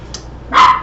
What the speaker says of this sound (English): that was my dog, or actually my wife's dog